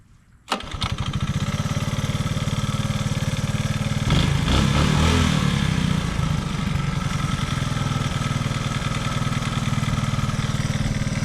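A Honda ATC185 three-wheeler with tank and tuning problems cranks and fires, then settles into a loud, steady, slightly high idle that grows a bit rougher for a moment before evening out.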